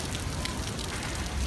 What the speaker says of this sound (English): It's raining over Disneyland.